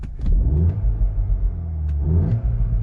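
Volkswagen T-Roc R engine revving as heard from inside the cabin, a loud, steady low rumble that swells twice in brief bursts of throttle, with no talking.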